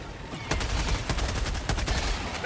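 Rapid automatic gunfire in Helldivers 2, a dense burst of shots starting abruptly and running steadily for about two seconds, loud and close with no clear talking.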